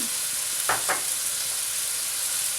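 Broccoli and vegetables frying in a pan as celery is added, a steady close sizzle with two quick clatters of the celery going in.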